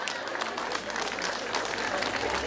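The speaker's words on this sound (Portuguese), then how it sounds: "Palmas para essa" Audience clapping at a joke-telling event, a broad, fairly faint wash of hands that holds steady throughout.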